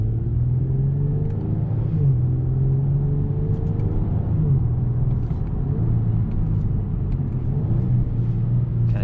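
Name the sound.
2021 Genesis G70 3.3t car engine while driving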